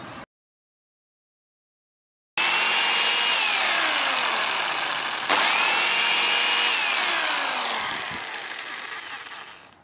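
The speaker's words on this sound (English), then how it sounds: "So I'm just going to go and grab the jigsaw and just see what that looks like and how well that handles the" A jigsaw cuts through an ARB commercial bull bar during a Pajero NT install, starting after a silent gap and buzzing loudly and steadily up close, with a brief jolt midway, then slowing and fading near the end.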